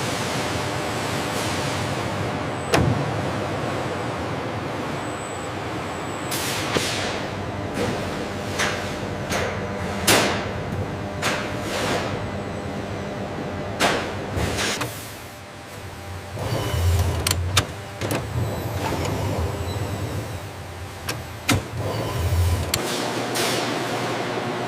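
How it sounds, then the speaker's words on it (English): An industrial oscillating cutting head trims cow leather hide in a modern leather factory, a continuous loud mechanical whir and hiss with repeated sharp ticks and bursts of clatter throughout. "The oscillating cutting head, guided by laser precision, trims the hide with industrial accuracy"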